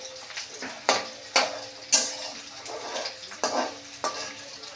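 Chicken curry cooking in a pan, with onions browning before potatoes go in: steady frying hiss under a string of sharp stirring scrapes and clinks of a spoon against the pan, roughly one each second, fairly close.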